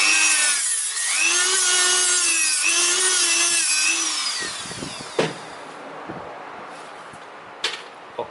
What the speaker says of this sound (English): I use this Dremel, this sanding paper, and I polish little bit these heads